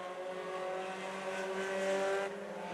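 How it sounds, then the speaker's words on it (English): A 4-cylinder division race car roars past at a speedway in a short, loud, steady engine drone that swells slightly and then eases off. "Salmons got off the track again, lost ground, now closing back in on Bentley down the back straightaway"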